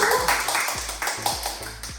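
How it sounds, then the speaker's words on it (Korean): A small theater-company audience claps in applause, several close, uneven rounds of hand claps that keep going for a couple of seconds. "박수 한번 부탁드리겠습니다."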